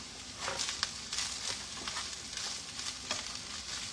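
Food stirred in a hot frying pan with butter, rice and chicken, steady sizzling with repeated scraping strokes in a quick, even rhythm, close and moderately loud.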